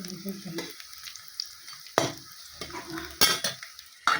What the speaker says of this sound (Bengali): এখানে করছি কাঁচা কলা ভাজা